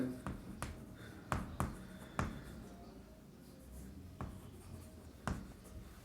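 Chalk or marker writing on a board: a sparse series of sharp taps and short scratchy strokes at an irregular pace, quiet and close, with no talk.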